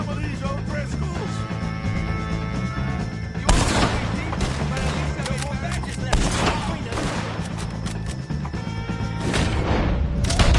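Game gunfire from an Old West shootout against the O'Driscoll gang in Red Dead Redemption 2, with bursts of shots and loud blasts over a steady bed of music and battle noise.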